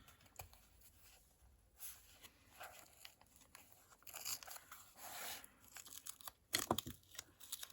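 Scissors cutting across a page of an old book being altered for a junk journal, giving soft intermittent snips and paper crinkles at close range, quiet and without talk.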